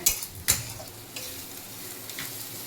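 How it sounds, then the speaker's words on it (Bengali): Onion fries in a pan while being stirred, giving a quiet, low sizzle broken by a few sharp scrapes and clinks of the spoon against the pan at irregular moments. "আর এখানে পেঁয়াজটাও ভাজা হয়ে গেছে"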